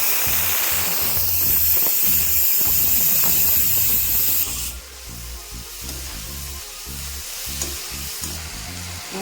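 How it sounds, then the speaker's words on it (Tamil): Liver gravy with tomatoes sautéing in a pan for a Sunday meal, a steady close sizzle and frying hiss that drops in intensity partway through, with occasional stirring clatter and no talk. "இது கொஞ்ச நேரம் வதக்கலாம்."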